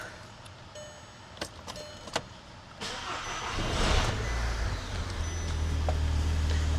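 An Audi from a salvage auction, with suspected dirty oxygen sensors, cranks and fires up after a few clicks, then settles into a steady, close, rumbling idle.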